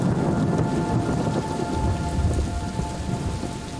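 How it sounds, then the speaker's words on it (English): Rain and thunder in the video game Superliminal form a steady hiss of rainfall over a deep, rolling rumble of thunder, continuous and fairly loud, with no talking. "Oh, it sounds like it's raining"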